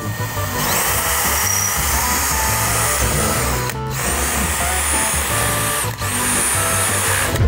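A power drill drilling into a wall whirs loudly and continuously up close, cutting out briefly twice before spinning up again.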